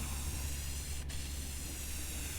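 A spray can painting a metal grill gives a steady, close hiss that holds unbroken from start to finish.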